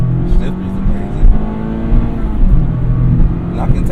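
A 2024 Mazda Miata ND3 Club soft top with the BBR package revs hard under acceleration, its engine note climbing steadily toward redline in a loud, continuous drone close to the cabin.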